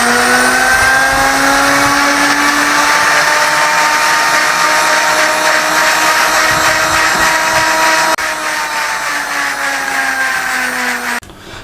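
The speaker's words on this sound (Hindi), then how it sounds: "इसको ग्राइंड करने लगा" A mixer grinder blends green chutney ingredients with water: a loud, continuous motor whine with a gritty churn that holds steady for most of the stretch, then drops slightly in level and cuts off near the end.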